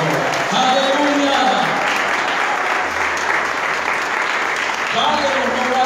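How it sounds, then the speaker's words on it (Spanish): Church congregation applauding and cheering during a Spanish-language sermon, a loud steady wash of clapping with voices calling out over it throughout. "¿Cuánto le dan un aplauso al Señor?"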